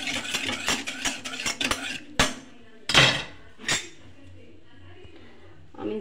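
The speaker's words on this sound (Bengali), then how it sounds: "এটা ভালো করে মিশিয়ে নেব।" A spoon mixes milk in a bowl for caramel pudding, a quick run of bright clinks and taps against the bowl, then a few louder isolated knocks before it goes quiet.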